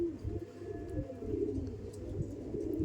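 An old Rampuri pigeon gives soft, low, rolling coos, a continuous quiet burble close by with no voices over it.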